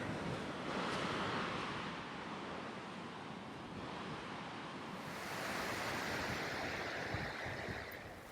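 A stunning brook flows beside a snowmobile-corridor hiking trail in the White Mountains, giving a steady, full rushing wash of water that swells slightly toward the end, with no talking.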